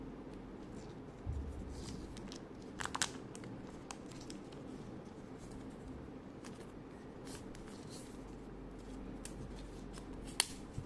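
A thick package of DJI accessories being opened by hand, with crisp paper and plastic rustling, scrapes and a few sharp snips or tears at close range, with no talking.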